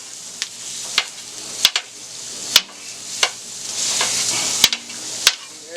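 Sausage sizzling steadily on a Steelmade steel griddle alongside cooking onions, with a spatula chopping it in sharp, scattered metallic clacks over the continuous frying hiss, close and moderately loud.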